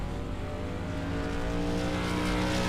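Modified race car in the iRacing SRL M9 Modified Tour at Indianapolis, its engine droning loud and steady at high speed throughout, with no talk over it.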